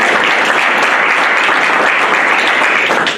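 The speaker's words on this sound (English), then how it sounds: "We can give a round of applause again," A crowd gives a loud, sustained round of applause, thick and even throughout, with no break and no voices standing out.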